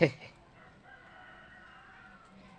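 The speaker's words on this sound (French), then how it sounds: "Il y a le coq qui chante du coup." A rooster's crow sounds at the very start, loud and brief, then trails off into quiet background ambience with faint talk or sounds.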